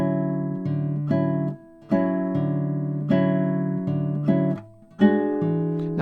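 A bossa nova guitar pattern anticipates the first hit at each chord change, with clean plucked chords in a syncopated rhythm, close and moderately loud, with short gaps between phrases.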